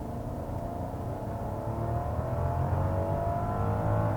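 A 2019 Rolls-Royce Cullinan SUV, all-wheel drive with an 8-speed ZF transmission, accelerates at full throttle, its engine a smooth, rising low drone that builds steadily from inside the cabin with no talking.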